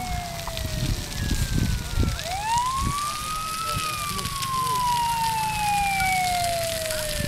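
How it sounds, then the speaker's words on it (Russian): A fire engine's wailing siren slowly rises and then falls as it approaches a grass fire, over crackling background noise and some nearby voices. "Вот пожарная машина приехала."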